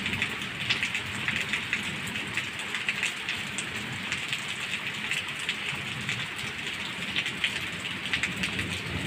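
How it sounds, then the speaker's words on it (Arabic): Heavy rain pours steadily at night during a thunderstorm, a dense, even hiss of drops on surfaces with crackly patter throughout and no voices. "شوفوا البرق والرعد"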